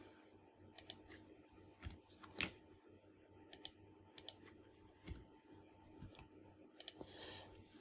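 Password being typed on a computer keyboard, quiet scattered keystroke clicks in short irregular bursts over a faint steady room hum.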